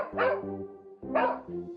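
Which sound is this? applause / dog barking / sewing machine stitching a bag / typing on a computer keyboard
dog barking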